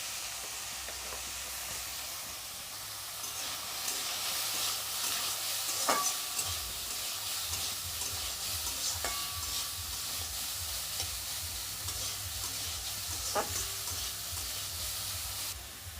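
Chicken, carrots and beans stir-frying for egg chicken chowmein, a steady sizzle with a few sharp spatula scrapes against the pan, close and continuous with no talk.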